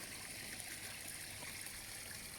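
Water trickles steadily into a backyard koi pond, a soft continuous splashing wash with no other sounds.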